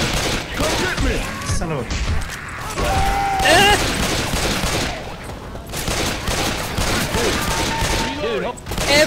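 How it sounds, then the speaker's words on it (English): Rapid gunfire from Left 4 Dead 2 rattles on through chaotic game noise, loud and nearly continuous, while players shout over it. "Oops, sorry, I didn't mean to shoot your hip."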